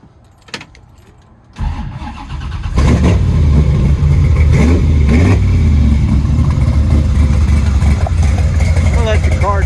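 A 1955 Chevy Gasser with a 540 cubic inch engine cranks briefly, then fires and settles into a loud, lumpy, deep idle up close, with a person speaking over it.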